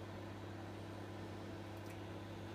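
A microwave oven runs steadily while heating water, a constant low mechanical hum with fan-like broadband noise that stays even throughout, with no voices.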